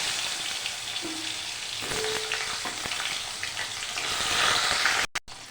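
Cut potatoes and bitter gourd sizzle in hot oil with black cumin seeds in a pan, a continuous bright crackle punctuated by a few clinks of a utensil, ending with sharp knocks.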